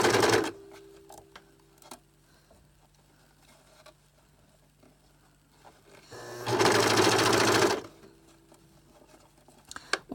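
A sewing machine stitching elastic onto the leg hole of a gymnastics leotard in two bursts, a brief run at the start and a longer run of about a second and a half later, close and loud, with quiet handling between.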